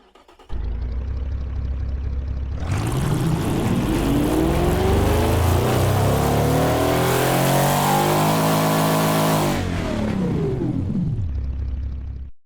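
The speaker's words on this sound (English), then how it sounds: "So let's do a quick pull test of the dyno right now." A simulated car engine revving through a dyno pull test in the Automation game, climbing steadily in pitch under load for several seconds before cutting back, loud and continuous with no voices.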